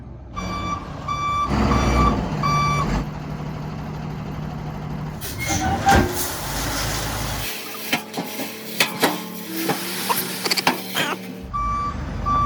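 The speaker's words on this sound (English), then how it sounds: "The driver is going to do his best to drop the load right here along the retaining wall blocks." Delivery truck backing in to drop a load of basalt gravel beside retaining wall blocks, with loud repeated reversing beeps, a diesel engine rumble, air brake hisses, and clanks and scraping as the load comes down.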